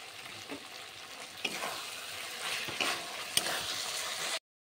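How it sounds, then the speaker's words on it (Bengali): Pasta sauce in a pan gets a spoonful of tomato sauce stirred through, producing a steady bright sizzle with a few spatula scrapes, close and even, then cutting off abruptly. "এখানেও আমি টমেটো সস 2 চামচ মতন দিলাম। দিয়ে ভালো করে আমি মিশিয়ে নেব।"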